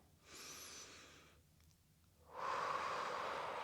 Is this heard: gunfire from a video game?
no